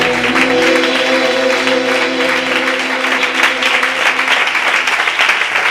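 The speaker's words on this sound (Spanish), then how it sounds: "Ofrecemos un aplauso al Señor" Church congregation applauding during worship, the clapping layered over sustained music tones, holding at a steady loud level throughout.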